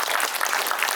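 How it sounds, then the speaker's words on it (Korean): A theater audience at a film screening talk event claps steadily and densely throughout, a close, sustained round of applause with no voices standing out. "박수 부탁드립니다."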